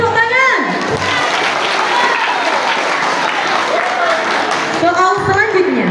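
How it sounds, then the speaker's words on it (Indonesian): A quiz audience breaks into loud, dense applause for the winning team, a steady wash of many hands clapping close by for several seconds, with a presenter's voice heard briefly at the start and end. "Berikan tepuk tangan."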